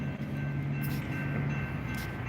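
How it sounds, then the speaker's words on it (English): A train rolling past at night, a steady loud rumble of rail noise with a faint high whine, heard from close by a trackside pole with no one talking. "this train about to be loud."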